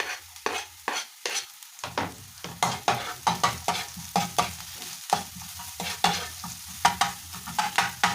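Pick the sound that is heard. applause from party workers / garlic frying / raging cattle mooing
garlic frying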